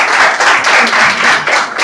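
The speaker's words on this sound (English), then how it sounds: "Please, round of applause." Audience at a school competition event breaks into a round of applause, dense clapping rolling in quick uneven waves, close and loud throughout.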